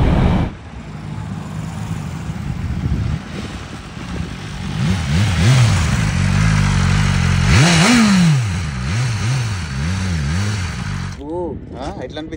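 A BMW superbike accelerates hard nearby, its engine note climbing and falling through repeated gear changes as it revs, loud and continuous over wind noise, with a short burst of talk near the start.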